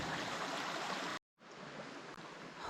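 A brook running beside a logging road, a close, loud, continuous wash of flowing water, broken once by a short silent gap.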